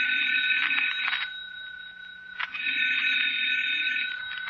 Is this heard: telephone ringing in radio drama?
yes